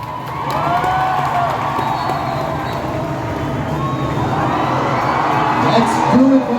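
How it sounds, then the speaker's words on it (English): Large stadium crowd at the Durand Cup opening ceremony at JN Stadium, cheering and whooping continuously with scattered shouts, a dense, loud wash of voices sustained throughout and swelling near the end. "A big round of applause."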